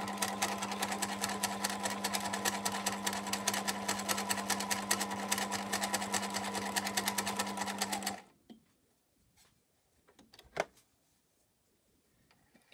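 A sewing machine top stitches a snap pouch, humming in a fast, even run for about eight seconds before stopping, followed by faint clicks and handling sounds.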